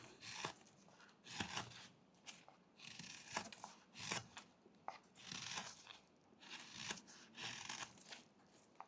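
A whittling knife shaves excess wood from a small carved Santa Claus figure, a series of close, crisp scraping cuts in irregular bursts.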